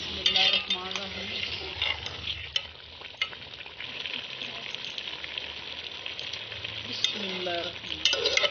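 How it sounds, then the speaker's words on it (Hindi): Grated carrot halwa (gajrela) roasts in a pan, giving an ongoing sizzle broken by frequent metallic scrapes and clinks of a spoon stirring against the pan, with a brief bit of talk in places. "हमारा गजरेला बन रहा है। जब अच्छी तरह भून लूँगी"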